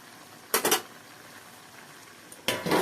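A lid set back onto a cooking pot of simmering bottle gourd and potatoes with fish head, two short metallic clatters about two seconds apart in a quiet kitchen.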